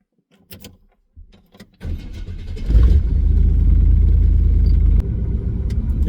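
Engine of a Chevy GMT400 OBS pickup truck cranking over after a few faint clicks, then catching and settling into a loud, steady low idle rumble up close, with a slight dip near the end.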